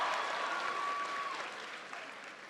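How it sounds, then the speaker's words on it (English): Crowd applause at a high school commencement ceremony, a broad, steady roar of clapping heard from a distance that fades slightly, with a faint tone running through it early on. "Please give him a big round of applause."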